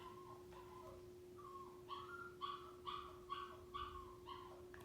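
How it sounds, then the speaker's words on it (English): An indoor dog barks in a string of sharp, high yips and whimpers, about six quick barks in a row after a few softer whines, fairly faint against a steady electrical hum, with no talking. "The dog's just going crazy."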